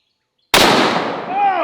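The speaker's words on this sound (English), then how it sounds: "I have a CZ 550 bolt action rifle" A single very loud, close gunshot from a CZ 550 bolt action rifle firing a 458 Lott 500 grain brass solid, a sharp blast after silence that rings out in a long decaying tail.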